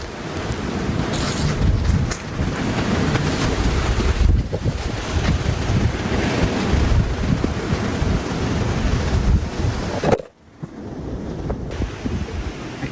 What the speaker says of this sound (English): I keep trying to keep this tarp down, but this wind is so strong.